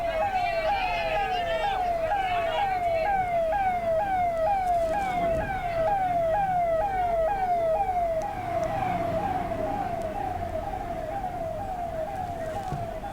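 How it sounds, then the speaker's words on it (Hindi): Fire engine sirens wailing at a major blaze in Kanpur's Collectorganj, a steady rising-and-falling electronic siren repeating continuously and loudly over road traffic noise and a busy crowd. "दमकल की गाड़ियां मौके पर पहुंची हुई हैं।"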